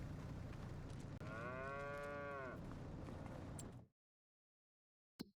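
Cows in a cowshed in the farming game Farming Simulator 25, one loud, close, drawn-out moo over a steady background hum, then the sound cuts to silence before a brief click.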